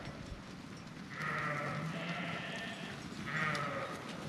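Sheep bleat nearby in Colorado, two or three drawn-out calls in a row over a steady outdoor background.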